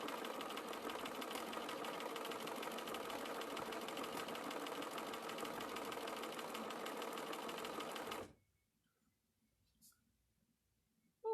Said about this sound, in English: you can see the machine sews pretty gosh darn straight without me doing anything.